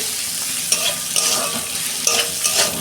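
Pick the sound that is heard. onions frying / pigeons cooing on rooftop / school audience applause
onions frying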